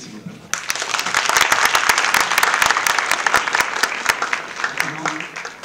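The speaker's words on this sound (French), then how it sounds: "Applaudissez-le s'il vous plaît." An audience breaks into applause at a political event, starting abruptly and then swelling into sustained, sharp claps from a large crowd with crisp individual hand strikes, easing slightly near the end as a voice returns.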